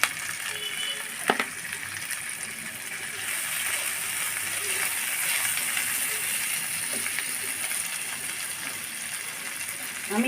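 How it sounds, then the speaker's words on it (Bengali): Onions fry in hot oil until reddish-brown, a steady sizzling and hissing, continuous and fairly even, with a faint clink or two near the start. "পেঁয়াজগুলো আমি লাল লাল করে ভেজে নেব"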